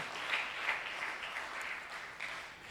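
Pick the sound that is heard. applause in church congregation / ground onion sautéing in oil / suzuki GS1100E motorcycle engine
applause in church congregation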